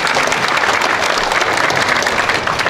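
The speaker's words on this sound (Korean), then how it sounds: "박수로 환영해 주시면 대단히 고맙습니다." An audience at a memorial ceremony in a hall claps loudly to welcome a lawmaker, a steady, dense burst of many hands with no gaps.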